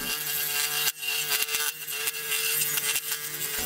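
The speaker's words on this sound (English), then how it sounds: "started sawing it out" Scroll saw cutting a word out of wood, a continuous close buzzing hum with fine rapid chatter and a few brief dips as the blade works, no talking.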